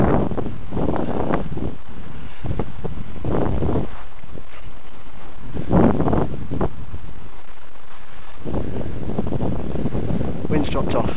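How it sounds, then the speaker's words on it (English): Gusty outdoor wind buffets the microphone in rough rumbling bursts that rise and fall, with a person talking at intervals between the gusts. "Wind's picked up a bit."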